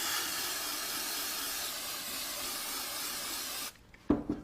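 Tack 2000 spray adhesive hissing from an aerosol can onto a styrofoam ball, one loud continuous spray burst that cuts off abruptly, followed by a couple of light handling knocks.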